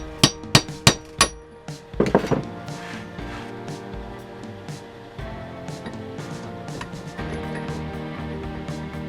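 Sharp metal hammer blows knocking an old bushing out of a C4 transmission pump, a quick series of loud strikes followed by lighter taps and scraping handling noises, close and clear.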